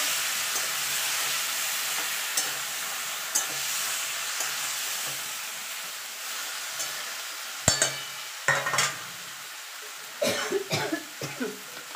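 Cooked spinach is stirred into a pan for a spinach chochchori. A low, steady sizzle runs throughout, and toward the end a spatula makes several clattering, scraping strokes up close.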